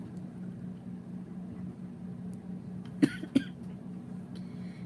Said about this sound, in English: Man, I wish this cough can go away.